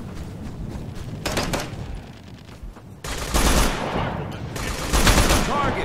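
Gunfire in the military shooter game Operation Flashpoint: Dragon Rising, loud bursts of automatic weapon fire in two clusters with sharp shots over a rumbling background, no talking.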